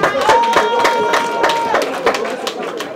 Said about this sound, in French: Ça s'acclame.